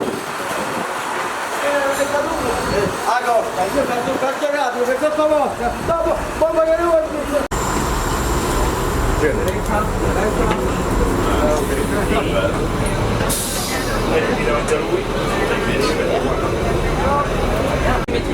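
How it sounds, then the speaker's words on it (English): Steady rumble and rattle of a moving train interior on the way to Rome, with continuous rail noise throughout and a voice talking over the first half. "We took a bus to a train, which we are now on, headed to Rome."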